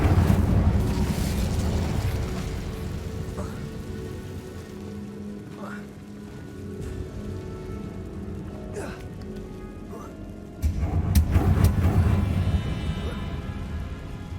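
The Incendio fire spell from the Hogwarts Legacy video game makes a dense crackling, rain-like hiss over a low rumble, easing off in the middle before a louder burst of flame roars back near the end.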